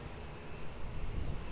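An airliner taking off at Lisbon Airport, a faint, steady low engine rumble heard from a distance that swells slightly toward the end.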